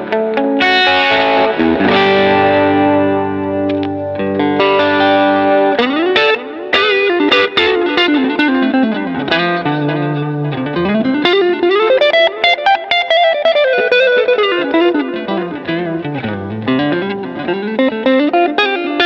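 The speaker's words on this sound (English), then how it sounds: "I'll turn up the delay level a little bit." Electric guitar through a Fender Pro Junior amp with a quarter-note delay plays chords, then bends and slides up and down a melodic line, each note trailed by echoing repeats, loud and close with no talking.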